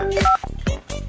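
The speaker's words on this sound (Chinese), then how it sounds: "我现在就打个电话" A telephone being dialed, giving a quick run of short keypad tones in close succession over about a second, loud and near.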